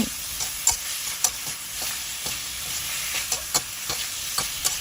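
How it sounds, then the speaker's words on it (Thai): A spatula tosses pork liver with holy basil in a hot pan, with a steady loud sizzle broken by repeated sharp scrapes and clinks, close up and without speech. "ผัดคลุกเคล้าให้ส่วนผสมทุกอย่างเข้ากันค่ะ ผัดไปเรื่อย ๆ ก่อนนะคะ"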